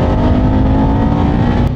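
A motorcycle on a racetrack at Clark International Speedway, its engine droning loudly and steadily close by, a continuous throaty roar at sustained throttle.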